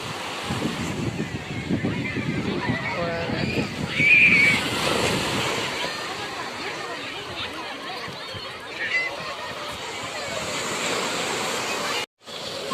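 Sea waves wash onto the shore at a Bhavnagar beach on a new-moon day where people are bathing, a steady broad roar of surf with wind buffeting the microphone and voices talking over it.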